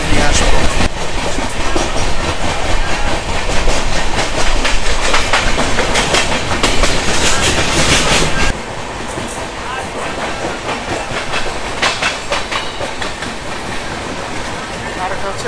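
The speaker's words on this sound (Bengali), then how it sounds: "ট্রেন এখন পার করছেন নলপুর স্টেশন।" Kandari Express train on the Howrah to Digha line, running loud and steady on the rails with continuous clickety-clack and wheel rumble that drops slightly in level partway through.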